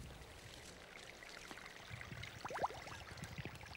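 Tiny stream in New England autumn trickles and gurgles softly and continuously, with small bubbling splashes growing slightly busier toward the end, quiet and close with no voices.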